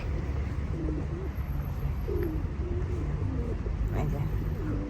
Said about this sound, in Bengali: একটু কবুতরগুলো ভিডিও করবো বলে আসছি